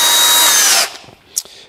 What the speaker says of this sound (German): So, jetzt bohren wir das Ganze einmal vor.